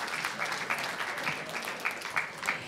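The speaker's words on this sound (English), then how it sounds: "let's give these champions another big round of applause" A board meeting audience applauds award champions: faint, distant, steady clapping from many hands in a room, continuous for a few seconds with no voices over it.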